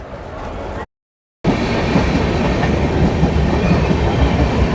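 A train rumbles steadily at Karjat railway station with rhythmic clattering of wheels on track, loud and close, after a brief moment of silence.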